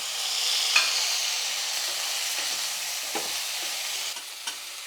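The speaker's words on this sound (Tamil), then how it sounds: "இப்போ பருப்பு நல்லா வறுப்படட்டும் பாருங்கள்" Lentils roasting in a pan for a tangy tamarind and tomato kuzhambu, a steady dry sizzle with soft scraping stirs and a few light clinks, close and continuous with no talk.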